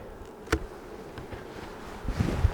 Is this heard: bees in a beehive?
yes